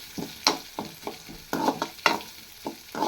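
Spices fry in a pan while a spoon stirs and scrapes, giving a series of distinct clinks and scrapes in an irregular rhythm over a faint sizzle, close by and without speech.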